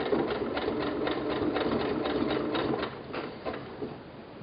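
A sewing machine stitches binding onto a bodysuit with the presser foot slightly raised, a close rapid whirring chatter in short pulsing bursts that slows and quiets toward the end.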